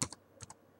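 A few quick, close keystrokes on a computer keyboard, a sharp cluster at the start and another pair of taps shortly after, clean with no voice.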